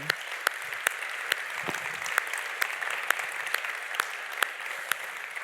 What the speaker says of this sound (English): Applause for all the mayors in this room.